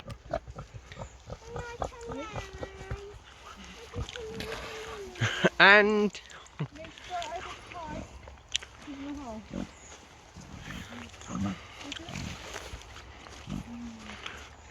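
Kunekune pigs eat pumpkins, giving grunts, squeals and wet chewing and crunching at close range, while a person talks over most of it.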